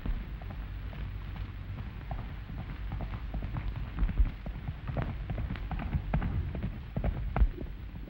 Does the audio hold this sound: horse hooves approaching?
yes